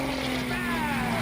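An aerobatic airplane flying a barrel roll parallel to a runway produces a steady, loud propeller-engine drone whose pitch shifts slightly as it turns.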